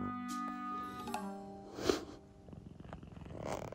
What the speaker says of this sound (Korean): 뭐 이런 자세로 골골대고 있냐?